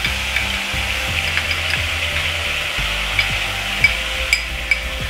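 Onion paste goes into hot oil for a Duars-style potato curry, giving a steady bright sizzle with clattering spoon knocks and taps against the pan.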